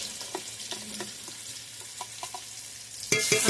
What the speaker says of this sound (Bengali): পেঁয়াজটা ভাজা ভাজা হয়ে এসছে, পেঁয়াজের ভিতরে দিয়ে দিলাম রসুন পেস্ট,